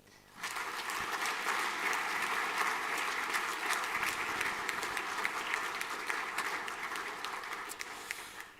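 School assembly audience applauding after names are read out for awards, a steady, even round of clapping from a sizeable crowd in a hall that starts abruptly and holds for about eight seconds.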